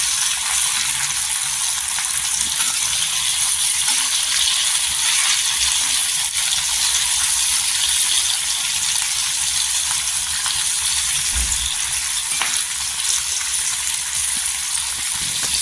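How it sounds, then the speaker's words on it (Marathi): Green chillies frying in hot oil with golden-browned garlic give off a steady, close, unbroken sizzle and crackle that runs throughout with no talk. "मिरच्या टाकून घ्यायच्या छान तेलावर परतून घ्यायचं"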